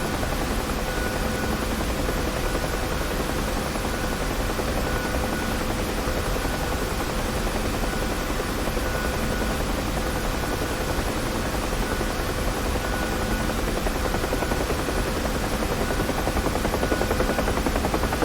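Steady, loud rotor thump and turbine whine of a UH-1H helicopter in DCS World flight simulation, a continuous dense drone with no talk, unchanged throughout.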